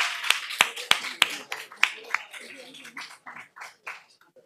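A small audience at a public health campaign presentation on obesity prevention claps sparsely, with a few sharp, close claps at first that thin out and fade away over a few seconds, with some speech mixed in.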